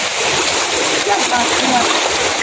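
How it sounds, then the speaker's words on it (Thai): Strong water rushes and splashes at a waterfall, a loud, steady roar filling the whole stretch with no voices on top. "ตรงนี้น้ำแรงเวอร์ทุกคนดู"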